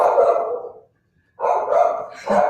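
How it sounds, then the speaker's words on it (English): A dog barks in two bursts close by, loud and alone, with a short silent gap between the first bark and the following pair. "it's our dog"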